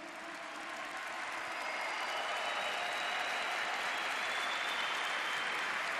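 A large audience at a Catholic charismatic camp gathering claps continuously, the applause swelling slightly and then holding steady and dense throughout.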